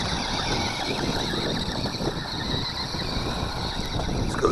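A DK1801 six-wheel RC rally car whines steadily as it drives over rough outdoor ground, its small motor buzzing continuously with gritty rattling from the terrain, close and fairly loud.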